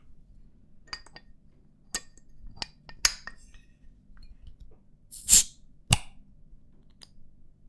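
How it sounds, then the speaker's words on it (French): Beer bottles are uncapped close up in a quiet ASMR setting: scattered small metallic clicks and taps lead to a brief sharp hiss of the cap releasing, then another crisp click, all near and delicate. "Je vais donc décapsuler celle-ci sur l'oreille gauche."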